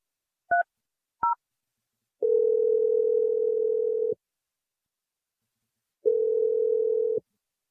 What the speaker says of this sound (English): I'm going to dial the bride right now